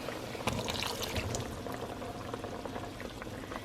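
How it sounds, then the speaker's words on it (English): Juice from canned string beans pouring off in a steady, close, gurgling splash that continues for several seconds, with a few brief clinks, and no voices. "I'm going to pour the juice off of 2 cans"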